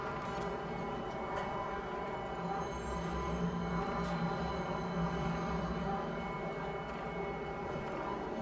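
Steady rumbling hum of a train pulling into Tisa Spaceport in the Star Citizen video game, a continuous droning engine with faint high tones over it, loud and even throughout.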